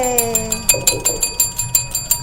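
Rapid bright bell strikes ringing in a quick, even series of about a dozen dings with short decays, fairly loud over a faint background tone.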